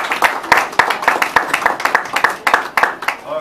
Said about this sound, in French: I ask you to please clap for you.